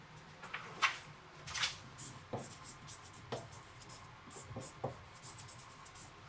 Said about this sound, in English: Go ahead and write that for me on there